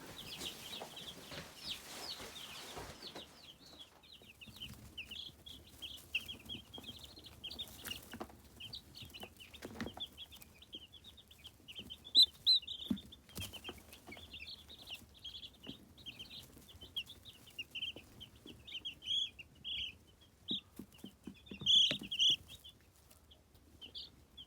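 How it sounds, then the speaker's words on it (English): Baby chicks peep in a continuous high chatter through a long stretch, with scattered rustling and bumps from the brooder in the background. "Let's go check out the chicks."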